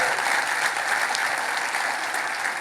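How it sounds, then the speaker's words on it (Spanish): A crowd at a church service claps loudly and steadily, dense applause filling the space without pause and no speech. "Dale ese aplauso más fuerte"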